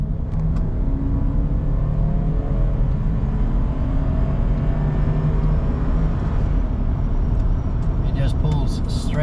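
A Land Rover LR3 engine pulling under load while driving, a loud, steady low drone and road rumble from inside the cabin, constant throughout with slight rises in pitch.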